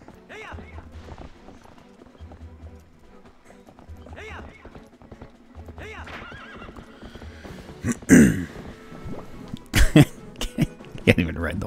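Horse in The Legend of Zelda: Twilight Princess HD on Wii U: steady clip-clop hoofbeats run throughout, then loud neighs and whinnies near the end, with a player talking over the game audio.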